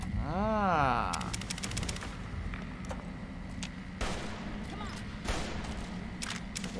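Video game gunfire rattles out in quick bursts of sharp, cracking shots, some close and loud and others lighter. A whooping sweep comes first, and rapid volleys follow in irregular clusters.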